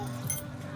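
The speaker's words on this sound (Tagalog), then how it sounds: "Kaninong susi yan?" A brief metallic jingle of keys during a family beach outing, sitting under a steady background murmur with faint voices nearby.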